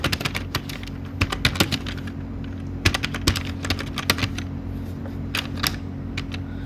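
Rapid clicking of typing on a computer keyboard in an office-software session, with irregular bursts of keystrokes over a steady low hum, close and fairly quiet.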